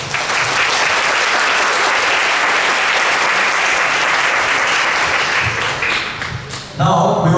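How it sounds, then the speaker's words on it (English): A crowd applauds loudly and steadily, a dense wash of clapping that holds for several seconds before fading, with a brief louder burst near the end. "Please give her another round of applause."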